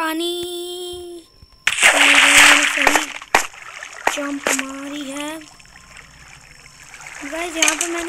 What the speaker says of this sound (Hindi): नीचे गाइस पानी, सही जंप मारी है।